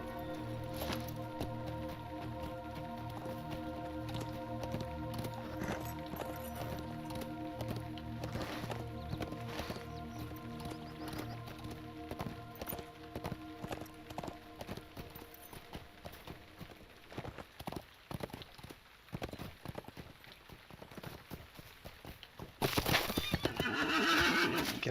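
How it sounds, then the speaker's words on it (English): Horse whinnies and clip-clopping hooves from Lord of the Rings Online, the steady hoofbeats running under game music before a loud burst near the end. "Get off the horse while I'm in town."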